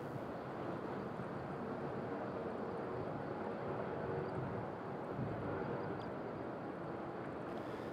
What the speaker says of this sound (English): we have Transavia clear to land